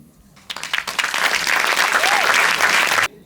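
After a quiet start, a festival closing-ceremony crowd in Guadeloupe bursts into loud applause for an honorary award, building quickly into thick, continuous clapping that cuts off abruptly after about two and a half seconds.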